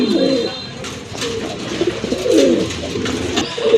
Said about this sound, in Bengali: আরেক জোড়া কবুতর দেখেন